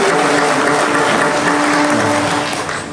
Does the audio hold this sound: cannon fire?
no